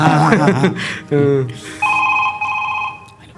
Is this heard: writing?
no